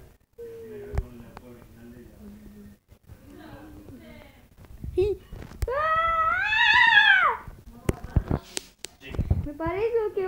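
A cat meows in a long, rising-and-falling wail near the middle, with shorter meows before and after, while people talk and exclaim around it indoors.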